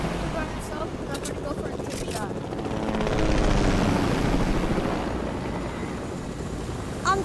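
A video game helicopter gives a steady whirring rotor drone that swells louder in the middle and fades again, with faint game effects and brief clicks on top.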